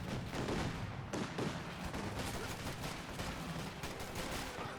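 Grenades and small-arms fire in a Company of Heroes 2 battle: a dense, loud, continuous barrage of overlapping blasts and gunshots with no pauses and no talking.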